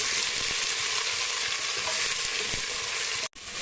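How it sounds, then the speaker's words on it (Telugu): Sliced onions sizzle and fry in hot oil with curry leaves and coriander for a chicken gravy, a loud continuous hiss with scraping stir strokes, cut short by a brief break near the end. "ఇట్లా ఉల్లిగడ్డను వేసి కలుపుతున్నాను. గోల్డెన్ బ్రౌన్ వచ్చేంత వరకు నేను వేయించుతాను."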